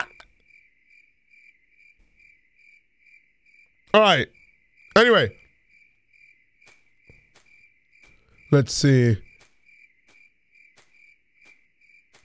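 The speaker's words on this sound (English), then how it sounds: "Crickets. Nothing but crickets." Crickets chirping at night in the horror video game IMSCARED, a steady faint pulsing trill running throughout under a few short bursts of a voice.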